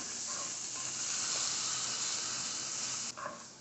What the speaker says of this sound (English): You want to cook it enough so the vegetables will sweat and get tender.